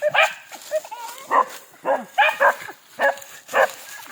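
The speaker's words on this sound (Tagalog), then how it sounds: "ito yung mga aso ni tatay" Several dogs bark in short, loud bursts, repeated irregularly and close by, with some yelping mixed in.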